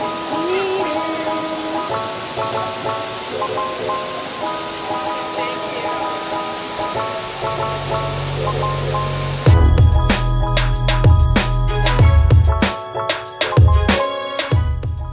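Multnomah Falls sends out a steady, broad rushing roar of falling water heard from a distance, which cuts off abruptly partway through to a run of close clicks and thumps.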